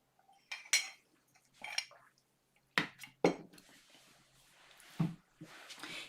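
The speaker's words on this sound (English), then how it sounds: "I'm going to take a sip of my tea, stirring it up" A metal spoon clinks against a cup of tea while stirring, bright irregular taps and scrapes with quiet pauses between, close and soft.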